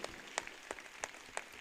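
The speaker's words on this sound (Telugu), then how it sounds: "చప్పట్లు కొడదాం పిల్లకు దేవుని బిడ్డలారా" Faint, sparse claps from a congregation applauding a child at a church prayer meeting, a few separate hand claps in a quiet room.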